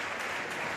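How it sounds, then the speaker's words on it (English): Spectators clap at a men's singles MS1 para table tennis semifinal, a short, fairly faint patter of applause from the stands with no voices over it. "You don't applaud when the opponent makes an error"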